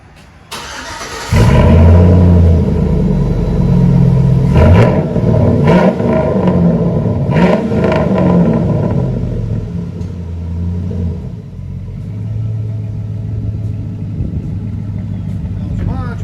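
A 2007 Chevy Silverado with a 4.8L V8 and straight-pipe dual exhaust starts up loudly, then revs in several sharp blips before settling into a deep, rumbling idle; a voice talks briefly.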